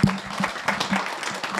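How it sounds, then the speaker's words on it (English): A short burst of applause at a seminar, many hands clapping together in a dense, uneven patter from a nearby crowd. "So big applause for..."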